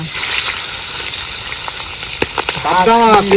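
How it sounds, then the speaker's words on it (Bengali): Pabda fish fries with chopped green chili in hot mustard oil, a loud, close, steady sizzle, and a voice chimes in near the end. "মনে হচ্ছে লঙ্কা কুচিয়ে মাছটাকে হালকা করে ভেজে নিই সুন্দর করে"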